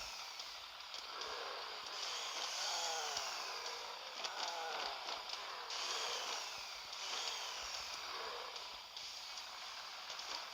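Continuous whining, grinding saw blades on the front of a car cutting through metal in the video game Earn to Die, with rising and falling pitch sweeps over a steady mechanical roar, moderately loud and without pause.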